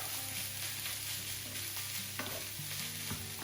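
Chicken rice stir fry hissing quietly in a pan as it is heated through and stirred, a soft steady sizzle with occasional scrape of the utensil, no talking.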